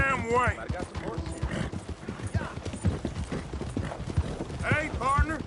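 Horses' hooves clip-clop in a rhythmic trot in Red Dead Redemption 2, close and clear, with a horse whinnying and voices talking over the hoofbeats.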